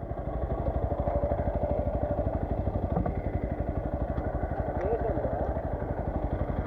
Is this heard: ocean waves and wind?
no